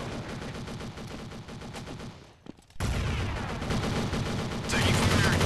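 Rapid bursts of automatic gunfire from a P90 in Counter-Strike ring out loud and close on the map The Town, broken by a brief lull, then resuming more intensely as the fight continues.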